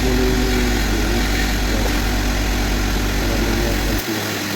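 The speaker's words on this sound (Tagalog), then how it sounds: "Binabacuum ko muna yung tubig" A vacuum pulls standing water out of a car during detailing, making a loud, continuous, steady motor drone that shifts slightly near the end.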